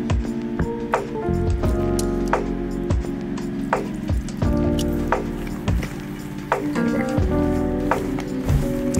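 Raw peanuts are tossed with a flour coating as water is sprinkled over them, giving a steady close run of wet squishing, pattering and grainy rustling with small clicks throughout.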